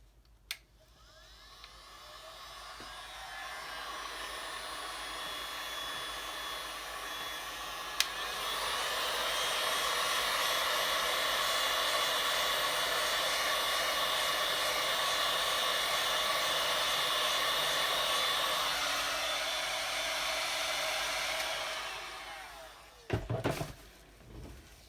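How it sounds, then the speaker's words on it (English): A heat gun blows hot air over coasters being refinished, whirring up and holding a loud steady roar for about fifteen seconds before cutting off, followed by a few clunks. "I am going to take my heat gun and blow that around a little bit"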